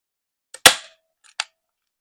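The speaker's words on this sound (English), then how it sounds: "I've never used a nail gun" Two sharp pneumatic nail-gun shots drive nails into a thick wooden picture frame, a loud crack followed by a quieter second shot about three-quarters of a second later, with no talking.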